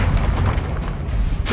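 Bombarda blasting spell in Hogwarts Legacy, a dense rumbling boom with low-end roar that sustains through the moment, layered with game effects and no talking.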